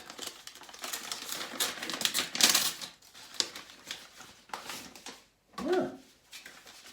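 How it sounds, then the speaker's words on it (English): A paper parcel envelope from a shaving supplier is torn open up close, with crisp ripping and crinkling bursts and a short pause before a final rustle. "Opening up a parcel is always an excitement, isn't it?"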